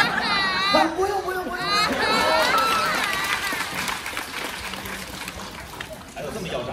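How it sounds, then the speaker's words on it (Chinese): Audience applause and chatter fill a Deyun Society crosstalk show at Guangdelou theatre, a steady loud wash of clapping running throughout with voices talking over it. "没有想到啊，大伙不认识我还给我鼓掌"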